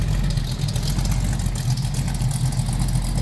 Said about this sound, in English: Nice little rumble out of that 289. Idles nicely.